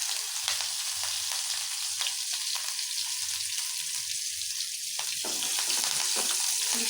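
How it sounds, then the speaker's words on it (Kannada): Cumin, ginger, garlic and green chili sizzle steadily in hot oil, a close, continuous crackling fry with brief stirring scrapes and no voices. "ಇಷ್ಟು ಹಾಕಿ ಚೆನ್ನಾಗಿ ಫ್ರೈ ಮಾಡಬೇಕು."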